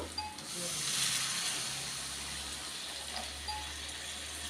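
A glass of water poured into a hot pan of pakodi curry, a broad steady steam hiss rising then holding, with faint talk in the background.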